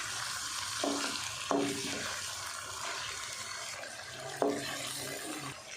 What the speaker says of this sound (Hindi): चिकन को अच्छे से हम प्याज और लहसुन के साथ फ्राई कर लेते हैं।